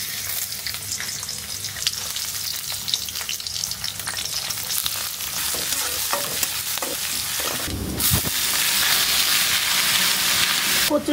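Finely chopped taro greens fry in a hot pan, giving a steady, close broadband sizzle with occasional stirring scrapes. The hiss swells louder near the end.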